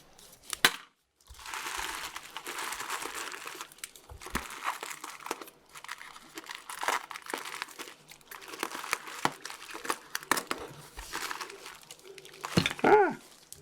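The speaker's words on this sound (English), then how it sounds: "I'm going to use the smaller tape now." A strip of small tape is pulled and pressed onto a homemade monster puppet, making close, irregular crinkling, rustling and tearing sounds. There are brief pauses between bursts and a sharper rip near the end.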